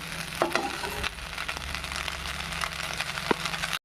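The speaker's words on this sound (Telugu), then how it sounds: "ఒకసారి గరిటె పెట్టి తిప్పేసుకుందాం" Mint rice sizzles in a hot pan as a ladle stirs through it, close and steady, with scraping clacks of the ladle against the pan before the sound cuts off abruptly.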